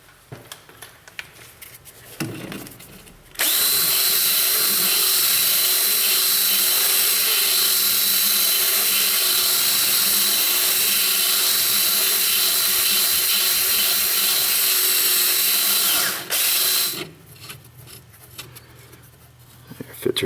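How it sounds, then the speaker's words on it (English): Power drill spinning a carbide burr inside a rusty bolt hole on a Ford Taurus sedan strut mount, a loud steady whine of about thirteen seconds that stops briefly near the end, with quieter shop sounds before and after. "So instead of grabbing a drill bit, I got us a little carbide burr. I'm gonna go inside that hole, just kind of clean out the rust."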